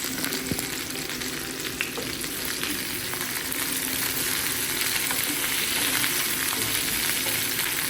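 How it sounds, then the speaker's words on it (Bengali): Cauliflower and potato curry sizzles steadily in a pan, a loud, continuous frying hiss broken by occasional scrapes of stirring, with no voices. "দেখো আমি এখানে রান্না করছি সিম্পল কিছু বানাচ্ছি আমি আজকে ফুলকপি আর আলুর তরকারি আর ডাল করব"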